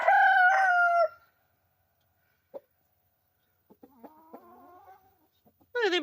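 Chickens and a rooster on a farm: a loud close crow opens, then scattered soft clucks and a few quieter calls, with another crow beginning at the end.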